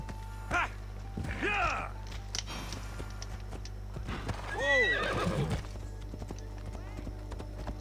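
A horse named Phobos in Assassin's Creed Odyssey whinnies twice, loud and close, over steady clip-clop hooves and a low background hum.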